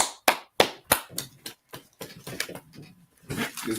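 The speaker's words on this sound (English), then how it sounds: "Clap it up" A handful of loud, separate claps ring out at a Purim feast opening at a Harlem gathering, spaced irregularly, then looser scattered clapping and faint voices follow.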